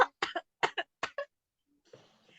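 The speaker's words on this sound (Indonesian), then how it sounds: "Lagi batuk." Several sharp coughs come in quick bursts, two or three at a time, close and fairly loud, then a pause and faint rustling.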